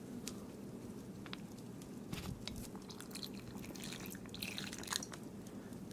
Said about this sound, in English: I'm gonna add a little bit more water here.